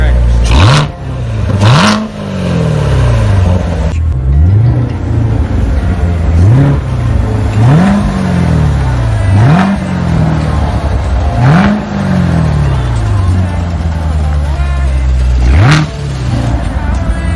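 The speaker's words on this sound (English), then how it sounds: "You hear that supercharger whining?" Supercharged Corvette Z06 engine revving up repeatedly in sharp bursts, each rise followed by a falling whine as the supercharger spools down, loud and close throughout with steady engine rumble between pulls.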